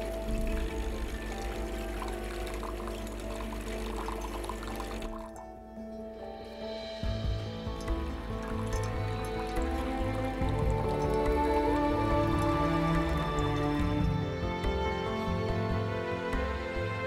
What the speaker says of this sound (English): Press the Tea Master button several times until the water flows.